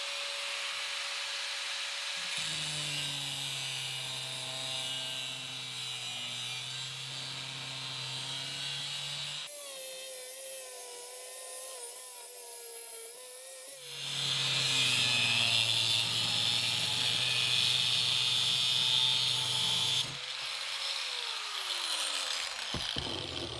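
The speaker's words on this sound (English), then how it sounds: "I'm going to cut off the thread" Pipe thread being cut off with a power tool for a micro hydro turbine bend, a loud steady grinding-saw whine in two long passes with a brief pause between, no talk.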